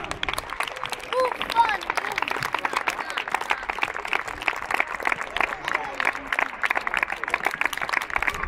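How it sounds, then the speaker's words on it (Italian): Enthusiastic applause from children and families at a summer football camp finale in a stadium, a crackling, steady clatter of many hands with scattered cheering voices mixed in throughout. "Applausi scroscianti per la squadra Thuram e la squadra Buffon."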